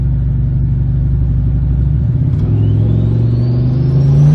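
A Chevrolet Duramax diesel engine in a 2500 pickup truck idles with a deep, loud rumble, then revs up and holds a rising, steady drone up close, with no talking.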